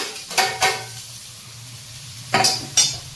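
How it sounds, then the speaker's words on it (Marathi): Capsicum and onion being sautéed in a pan give a soft, low sizzle, broken by two pairs of quick scraping stirs, one pair early and one near the end; close by and without speech. "ह्याच्यामध्ये शिमला मिरच टाकायची आणि सेम तेवढ्याच क्वांटिटीमध्ये ती पण तेवढी चांगली परतून घ्यायची"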